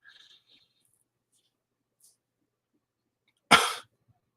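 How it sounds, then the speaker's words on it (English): One short, sharp asthmatic cough, near and fairly loud, follows a few seconds of near silence broken only by tiny faint noises. "Sorry about all the coughing."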